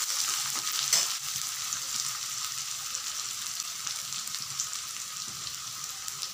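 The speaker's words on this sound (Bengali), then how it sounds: "পেঁয়াজগুলো হালকা ভাজা হওয়ার পর আমি দিয়ে দিব শুটকি মাছগুলোকে" Onions sizzle steadily as they fry in a pan for a dried-fish (shutki) dish, with a dense continuous crackle, a brief stirring clatter near the start, and no voices.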